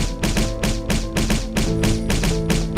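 Rapid, even thumps and bangs hammer on a bus in a horror-story sound effect, a loud rhythmic pounding repeated about twice a second with no voices.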